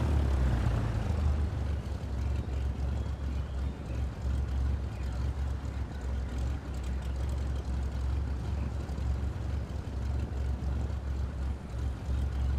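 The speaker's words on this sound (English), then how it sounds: "I can tell the aircraft engines are going to be pretty loud." Aircraft engines in Microsoft Flight Simulator 2024 give a loud, continuous droning roar that holds steady throughout with little variation.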